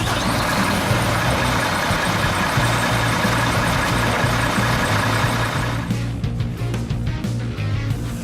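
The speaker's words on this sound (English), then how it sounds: "we're here as the engine starts" A recovery truck's diesel engine runs at a steady, loud idle close by, a constant low rumble, with the sound thinning slightly near the end.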